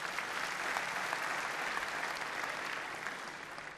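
A crowd at a national Hindi poetry gathering applauds in a loud, dense, sustained burst of many hands that fades slightly toward the end, with no voices over it.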